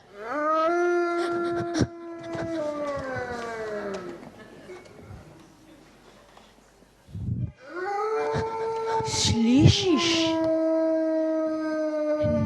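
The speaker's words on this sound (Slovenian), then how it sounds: "Nekaj je zalajalo." Dog howling in the distance in a mountain setting: two long, wavering howls with a quieter gap between them, and a short spoken question in the pause.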